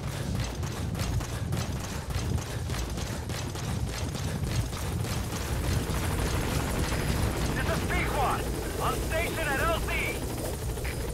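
A support helicopter arrives in Metal Gear Solid V: The Phantom Pain, a steady low rotor rumble filling the whole stretch with game ambience, while someone talks over it and brief bird-like chirps surface near the end.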